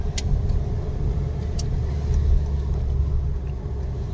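Car driving along a mountain road toward Delhi from Badrinath, a continuous low rumbling engine and road noise heard from inside, with faint jangling.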